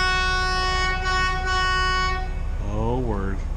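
A loud, sustained train-style air horn blares steadily for about two seconds and then cuts off, with a lower, wavering tone rising afterward. Heard near a truck being loaded in snowy New York.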